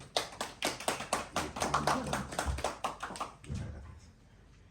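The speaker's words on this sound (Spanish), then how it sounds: "Así que yo os aplaudo." Audience applause at a book presentation in a venue in Peñíscola, with a burst of separate claps that thins out and stops near the end, nearby and moderately loud.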